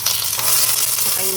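Onion and garlic (bawang) fry briskly in a hot pan for a Filipino chicken igado, a dense close sizzle and crackle with faint stirring, steady and alone.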